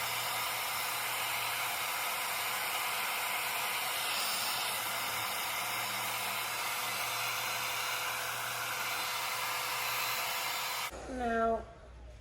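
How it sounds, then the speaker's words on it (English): A hair blow dryer drying a synthetic lace front wig roars as a steady, close broadband rush, continuous for most of the stretch before cutting off abruptly near the end. "So we have our blow dryer."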